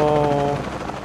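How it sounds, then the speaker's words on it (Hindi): Fighter helicopter in the Shadow of the Tomb Raider video game, its loud rotor drone and rapid gunfire bursting close for about a second before thinning into a rougher, fading rattle. "ये फाइटर हेलीकॉप्टर, इनके पास एक एक्स्ट्रा फाइटर हेलीकॉप्टर भी है"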